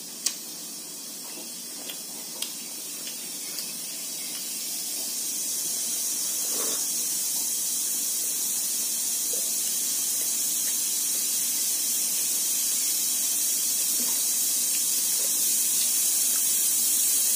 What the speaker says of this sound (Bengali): এদিকে পুঁইশাক প্রেশার কুকার ওটা সিটি মারবে এক্ষুনি